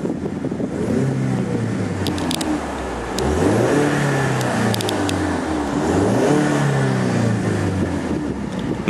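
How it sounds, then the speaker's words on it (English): A 2015 Ford Mustang Roush Stage 1 EcoBoost engine revs loudly and close, rising and falling in pitch through two repeated throttle sweeps, with hissing turbo whooshes and brief whistles over the steady drone. "makes all kinds of fun turbo noises."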